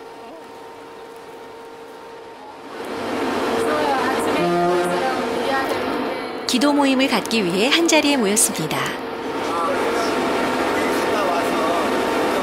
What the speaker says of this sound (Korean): 배 엔진 소리로 인해 서로에게 잘 들리진 않지만